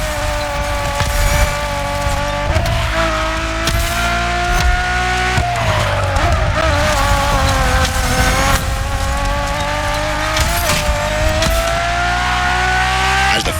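A Ferrari Enzo supercar driven hard in The Crew Motorfest, its engine droning loudly and steadily with rising and falling revs, shifts, and tire squeal throughout, close and continuous.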